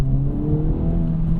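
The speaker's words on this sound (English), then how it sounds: "The exhaust sounds amazing" A GR Corolla's engine hums with a steady, deep, throaty exhaust note that swells slightly, a continuous low rumble close by with no speech.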